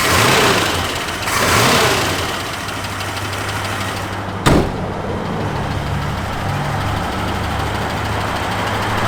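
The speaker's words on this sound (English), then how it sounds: "Give a little rev, Nathan." A 1965 Mercury Comet Caliente engine idles roughly nearby, rising in two brief revs early on, then settling into a steady rumble, with a sharp click midway.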